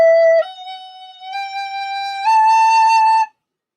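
A recorder plays a short legato passage of four smooth, connected notes stepping upward, clear and close in a quiet room before stopping abruptly.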